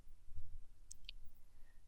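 A computer mouse clicks a few times in quick succession while a PLC automation simulation runs, sharp tiny taps standing out clearly over a quiet background hum with no one talking.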